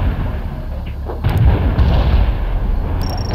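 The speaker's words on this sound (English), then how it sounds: "We're aiming the mortars right now" Mortar artillery fire in the strategy video game World in Conflict, a rumbling barrage of heavy low booms rolling over steady battlefield noise, loud and continuous through the short stretch.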